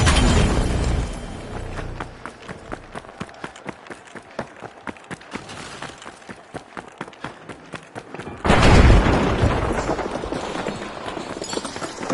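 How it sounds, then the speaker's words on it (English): A flashbang grenade in the competitive shooter The Finals goes off as one sudden loud burst that lingers into a roar, following several seconds of rapid thudding footsteps and gunfire-like clatter. "The flashbang."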